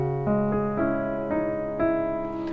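Solo piano plays two bars of "Through It All" with both hands, steady sustained chords struck on a clear rhythm, each new chord landing about every half second, close and alone with no voice.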